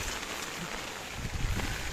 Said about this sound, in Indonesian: Ini kita baru sampai spot dah diguyur hujan nih